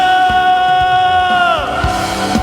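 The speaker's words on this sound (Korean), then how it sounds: "주님께 영광의 박수와 함성을 여드립시다" Church congregation at a Friday worship service giving a loud, sustained shout of praise, a continuous mass of held voices with faint claps underneath before the tone drops away near the end.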